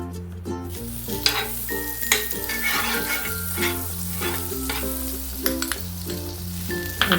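Butter melting on a hot dosa griddle for a street-style cheesy bread omelette, crackling and sizzling up close, with scraping taps of a spatula and a low steady hum underneath.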